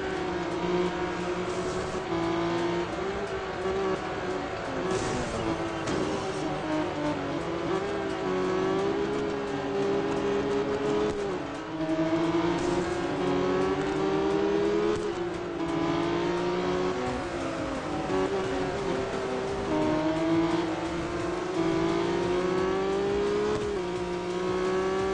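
Racing car engines from the mobile game Real Racing 3, a steady sustained engine drone with shifting pitch as revs rise and fall, continuous and loud throughout with no talking.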